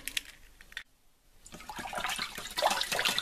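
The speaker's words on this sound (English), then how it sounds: "give it a good stir and whisk." A whisk stirs an egg mixture for southern fried chicken in a bowl, producing fast, close, scraping clinks and sloshing taps after a brief quiet pause, rising in intensity.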